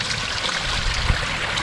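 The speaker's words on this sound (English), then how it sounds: "We're draining the water back into the pond," Pond water drains back into a garden pond in a steady, close splashing trickle, a constant bright wash of flowing water with no talking.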